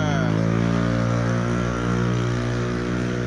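An Italjet Dragster 200 motorcycle with a new Akrapovic exhaust and no heat guard idles and revs steadily with a loud, raspy exhaust rumble, close by and continuous throughout.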